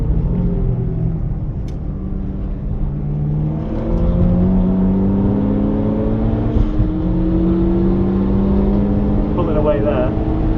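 A manual Mitsubishi Lancer Evolution X accelerates hard around a race track, its engine note climbing steadily through the gears as a loud, continuous in-car drone with brief shifts between.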